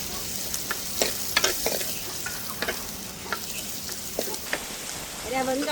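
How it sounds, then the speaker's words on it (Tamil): Chopped onions sautéing in a pan for a mutton curry, a steady close sizzle and frying hiss with scattered scraping stirs of a utensil, no speech. "இதோட நான் வெட்டி வச்சிருக்கிற வெங்காயத்தையும் சேர்த்துக்கொள்கிறேன். எல்லாம் சேர்ந்து வதங்க."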